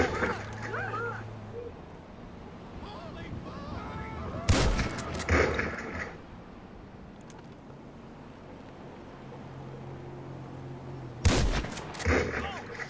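Sharp bursts of gunfire from the video game GTA V on a building terrace, two loud clusters of shots standing out against a steady background hum with a few fainter pops.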